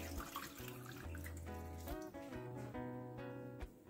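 Water flows into a cooking pot for a prawn and mango curry, a quiet running pour with a rising, bubbling pitch as the vessel fills, close and alone.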